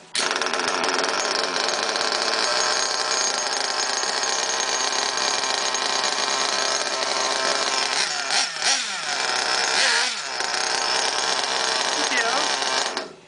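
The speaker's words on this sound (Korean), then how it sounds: "시동만 살짝 걸어볼게요. 사운드 한번 보겠습니다." A Kyosho Inferno Neo Race Spec RC car's nitro engine idles with a loud, close, raspy buzz through its aluminium race muffler, then revs up and down in two short bursts before settling back.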